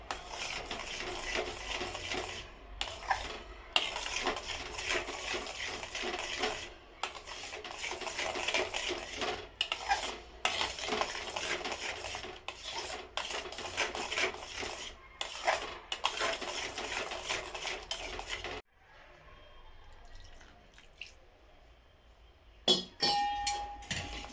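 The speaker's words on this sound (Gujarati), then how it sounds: "દૂધને વેડતા જવાનું આવી રીતે હલાવતા જવાનું" A spoon stirs sweet potato and milk in a metal pot for sweet potato sheera, giving continuous close scraping and clinking with short pauses, then near-quiet toward the end.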